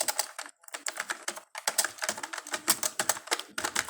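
Fingers type rapidly on a computer keyboard, close and crisp, in quick bursts of key clicks with two short pauses and no talking.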